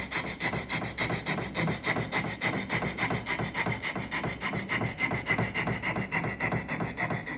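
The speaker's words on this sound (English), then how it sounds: "probably just grind this other angle" A power grinder shaping a carved wooden bird head, removing material near the bill: a continuous close rasping drone pulsing rapidly and evenly as the tool rubs the wood, with no speech.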